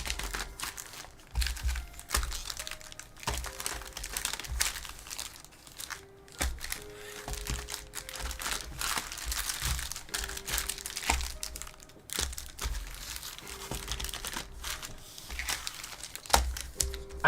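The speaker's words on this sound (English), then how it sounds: "So let's shuffle up these boosties." Magic: The Gathering booster packs being shuffled, foil wrappers crinkling in a continuous crackle with intermittent rustles and soft taps, close and steady throughout.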